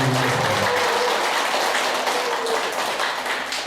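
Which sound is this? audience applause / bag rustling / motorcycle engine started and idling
audience applause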